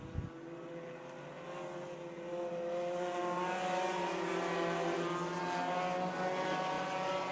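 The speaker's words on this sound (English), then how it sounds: "The Serve Pro Woodbury Deptford 4-cylinder main event is underway down the back straightaway." Four-cylinder race cars in a main event on an oval track, a dense, continuous roar of several engines building and sustaining as the pack runs down the back straightaway, loud and without talking.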